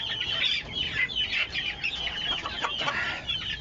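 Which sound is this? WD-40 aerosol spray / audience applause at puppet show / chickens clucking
chickens clucking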